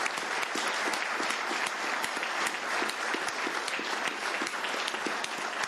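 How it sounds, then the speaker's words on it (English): Applause fills a county commissioners court meeting room, a moderately sized group clapping steadily and evenly for several seconds, close-sounding with no talk over it. "let's give everybody a big round of applause"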